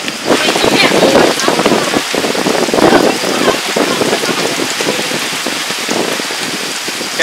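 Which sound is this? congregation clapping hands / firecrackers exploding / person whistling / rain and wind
rain and wind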